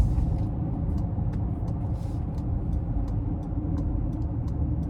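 A 2026 Honda Ridgeline TrailSport AWD pickup rolls down the road from inside the cab, giving a steady low road rumble with faint, regular ticking on top and no talk.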